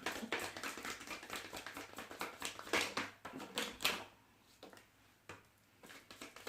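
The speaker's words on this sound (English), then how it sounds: "And yes, I am going to shuffle." A deck of tarot cards is shuffled by hand: a few seconds of rapid, close riffling and flicking bursts, then quieter scattered taps and slides of the cards, with no one speaking.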